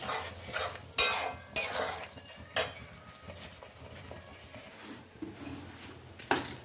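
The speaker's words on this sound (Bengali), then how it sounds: "এই যে একটু কাজু বাদাম বাটা দিলাম, এবার ভালো করে কষবে এটা" A spoon scrapes and stirs cashew nut paste being sautéed in a pan, with intermittent clattering knocks against the pan over a soft background sizzle.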